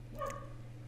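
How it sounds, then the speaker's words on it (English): A dog gives a single short bark somewhere indoors, slightly distant, over a steady low electrical hum. "sorry about the dog."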